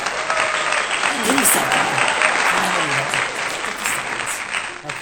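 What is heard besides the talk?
audience applause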